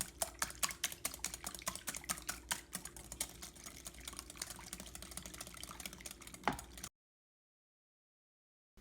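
Eggs being mixed in a bowl for funnel cake batter, with quick repeated clicking and tapping strokes of a utensil against the bowl for several seconds, then silence.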